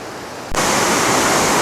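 A waterfall at Burgess Falls State Park in Tennessee roars loudly with a large drop, a dense, steady rush of falling water that bursts in suddenly after a quieter moment.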